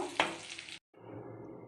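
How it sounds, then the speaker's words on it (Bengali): Shrimp fry in hot oil in a wok, a crisp sizzling hiss with a sharp stir or clink early, cutting off briefly before a quieter steady sizzle resumes. "এবার কড়াইয়ে তেল দিয়ে চিংড়ি মাছগুলোকে ভেজে তুলে রেখে দেবো।"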